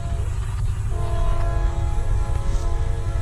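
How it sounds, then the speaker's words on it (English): A four-engine BNSF manifest freight train rumbles past close by with a loud, sustained horn blast of steady harmonic tones over heavy low-frequency rolling noise, continuous and without talk. "Here comes the train."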